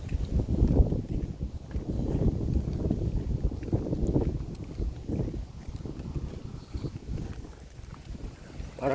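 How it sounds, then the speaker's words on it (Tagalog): Strong wind gusting hard across the microphone outdoors on a hot day near bamboo, a rough continuous rumble rising and falling in loud, close bursts. "Malakas ang hangin."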